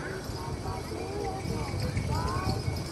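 A fox trotter gaited horse moves at a demonstration, its soft rhythmic hoof falls continuing under a person talking nearby, with some background noise.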